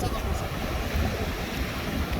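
Sea waves wash steadily onto a beach near Marseille in southern France, a constant broadband roar with wind noise over the microphone and no distinct break between surges.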